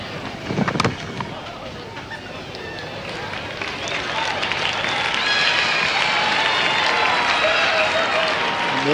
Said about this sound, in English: Generous applause from this good crowd here in Hobart.